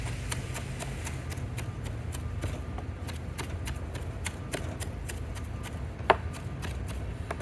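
A knife chops scallion finely on a board, producing a fast, even run of crisp taps that continue steadily throughout, with one sharper knock near the end.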